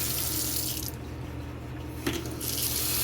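Cold water gushing from a sink faucet after frozen PEX supply pipes were thawed, a steady loud rush that briefly eases then returns strongly, with a small clink partway through.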